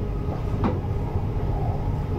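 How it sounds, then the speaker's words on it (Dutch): A Dutch VIRM double-deck intercity train runs on rails near Schiphol, giving a steady loud rumble of wheels and carriage with a faint squeal rising briefly in the middle, and no talking. "Deze trein zal verder rijden als Intercity naar Leiden."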